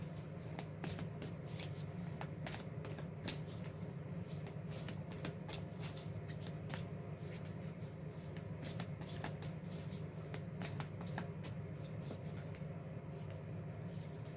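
Isis oracle cards shuffled by hand at close range, a continuous quiet riffling with frequent crisp flicks and taps, no voices.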